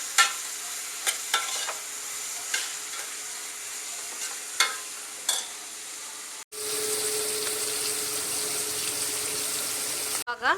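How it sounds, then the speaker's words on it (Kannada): Onions frying in a pan for chicken masala, a steady close sizzle with scattered sharp scrapes of a spoon stirring, and a louder, denser burst of sizzling in the last few seconds. "ಬಾಡಿಸ್ಕೊಳ್ಳೋಣ, ಹೀಗೆ ಮಿಕ್ಸ್ ಮಾಡ್ಕೊಳ್ಳೋಣ."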